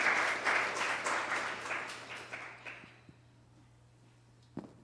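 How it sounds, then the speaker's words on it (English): Conference audience applauding speakers after a data documentation session, a dense wash of clapping from many hands that fades out over about three seconds, followed by near quiet and a single faint knock. "Round of applause for them."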